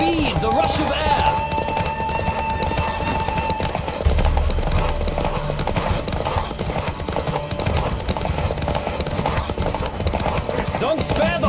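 Horse hooves gallop at a steady, rapid clip in The Witcher 3 video game, close and continuous with clattering rhythm beneath game music and occasional voices.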